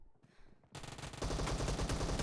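Rapid gunfire in PUBG Mobile, dense loud automatic bursts that begin after a short quiet lead-in and stay continuous.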